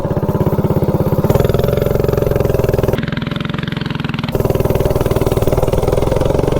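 A minibike engine fitted with a 5-foot intake runs loud and close, its rapid pulsing note climbing as it accelerates, briefly dropping in pitch, then pulling hard again.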